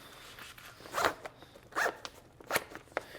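A YKK number 5 Aqua Guard zipper on a backpack's top pocket is pulled in three quick, close, rasping runs separated by short pauses, with faint rustling in between and no talk.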